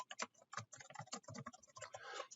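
Rapid clicking of keystrokes on a computer keyboard as a command is entered in statistics software, a steady close run of taps lasting a couple of seconds with no voice.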